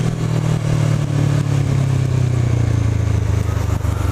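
A Honda CB500 motorcycle rides along in second gear, its steady mid-pitched engine drone loud and close throughout, holding a continuous tone with no pauses.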